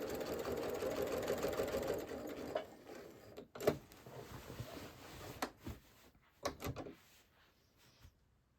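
A sewing machine runs steadily for about two seconds while stitching a quilted fabric table runner, then stops; a few sharp clicks and knocks follow, likely from the presser foot and the fabric being handled.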